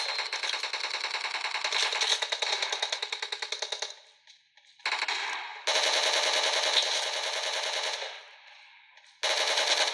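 Rapid automatic gunfire from PUBG Mobile played on a Samsung Galaxy S21 Ultra, loud and close in long sustained bursts with brief pauses between volleys.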